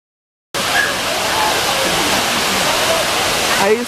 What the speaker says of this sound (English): it's a beautiful natural waterfall that was here